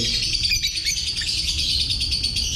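Pet parblo budgies, a blue hen among them, chirping in a shop cage, rapid high twittering calls running continuously, close and moderately loud, no talk.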